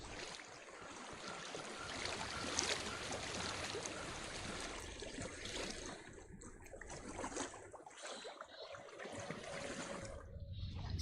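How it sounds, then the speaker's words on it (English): In the video game Hellblade: Senua's Sacrifice, water flows and rushes in a steady, broad wash that swells and dips slightly, moderately quiet and with no voices over it. "I hear water. Go to it."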